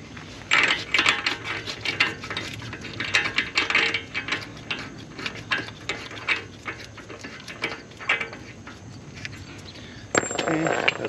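An axle nut is fitted and turned onto a wheel hub during a wheel bearing replacement, producing a steady run of close, dry mechanical clicks and ratchet-like ticks with a short louder burst near the end.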